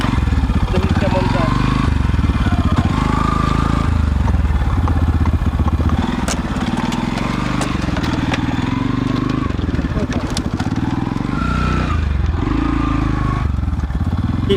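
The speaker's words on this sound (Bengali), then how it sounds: "মোটরসাইকেল চালানো দুষ্কর চরাঞ্চলের মধ্যে" A motorcycle engine rumbles steadily while riding on a river char area, with rattling clatter over rough ground and a person talking over the noise.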